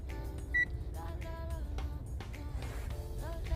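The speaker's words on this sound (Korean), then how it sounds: "이렇게 마주치면 삐 소리가 납니다." A single short, high electronic beep from a multimeter continuity test rings out briefly over a steady low hum and faint background sounds.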